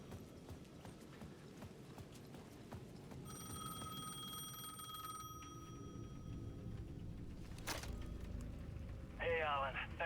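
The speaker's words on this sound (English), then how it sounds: "The payphone at the edge of the plaza was ringing again." A payphone in the video game Alan Wake 2 rings in short electronic bursts partway through, over a murky background of ambient rumble and footsteps-like thuds.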